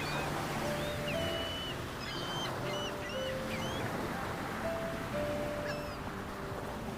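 Steady, unbroken sea surf washes on for the whole stretch at a soft, even level, with scattered gull cries calling above it.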